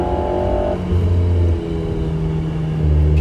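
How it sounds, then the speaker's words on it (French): A small four-cylinder engine in an Alpine A110 Edition GT idles and blips, loud and close, with low steady rumble stepping between pitches as revs rise and settle, alone without voices. "Puis le moteur qui chante vraiment bien pour le coup. C'est un petit 4 cylindres"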